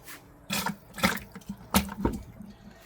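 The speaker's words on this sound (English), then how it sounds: "Water's going to start pumping in here." Water pumps through an AQQA aquarium siphon vacuum in a tank, coming as several short splashing, gurgling surges with quieter gaps between them.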